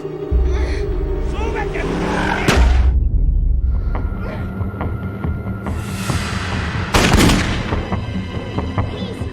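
Gunfire in a movie shootout: a dense barrage of loud booming shots and blasts with rumbling low end, several sharp bursts standing out, set under a music score.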